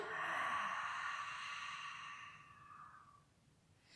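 A long, soft exhalation during a yoga breathing exercise, fading away over about three seconds, close and quiet, with no voice over it.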